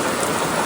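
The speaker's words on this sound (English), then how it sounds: "I'm not going out in this rain yet" Heavy rain pours down outside a tent, a dense, loud, unbroken hiss of drops with no voices.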